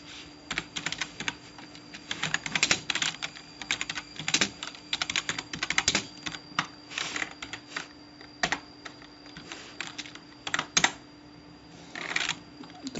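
Program code being typed on a computer keyboard, irregular bursts of quick clicking keystrokes with short pauses between runs, close and clear.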